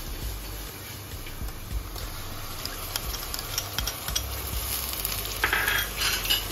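Ginger garlic paste being stirred into frying onions in a pan for soya keema, with a soft steady sizzle and scattered scraping and clinking of a spoon against the pan.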